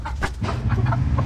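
Young hatchling chickens cluck in a few short, close bursts over a low farmyard murmur.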